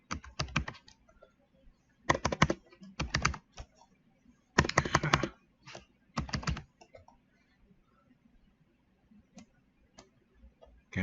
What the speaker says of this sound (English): Let's just go in here and type in